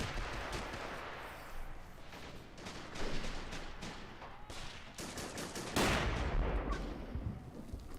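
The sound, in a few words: 60mm mortar firing in a video game tournament match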